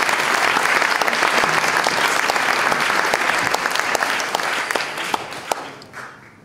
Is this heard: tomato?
no